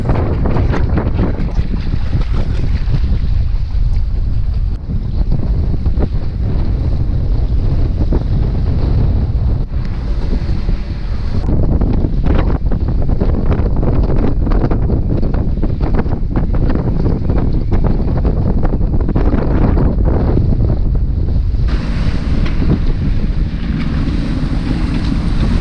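Strong wind buffets the microphone aboard a boat at sea heading from Homer to Kodiak, a loud continuous roar mixed with rushing waves and engine rumble, gusting throughout with no talking.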